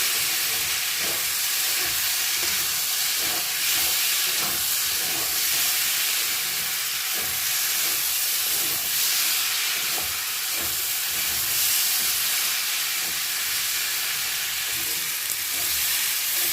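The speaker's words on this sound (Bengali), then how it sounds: "মশলার সঙ্গে দুধ দিয়ে আলু দিয়ে একসঙ্গে ভালো করে কষে নিয়েছি" Potatoes frying with spices and milk in a pan send up a loud, constant sizzle and hiss, with faint stirring scrapes under the steady roar.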